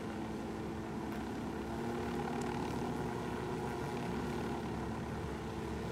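A helicopter flies in the video game Ghost Recon Wildlands, its engine and rotors making a steady, even drone that continues without a break, with no voices.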